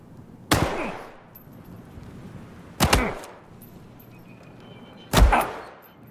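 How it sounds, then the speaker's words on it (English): Three sharp gunshots in a video game, spaced roughly two and a half seconds apart, each a loud crack with a short decaying tail over a quiet background. "now how many shots did you hear?"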